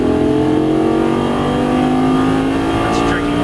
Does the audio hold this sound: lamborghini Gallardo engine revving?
yes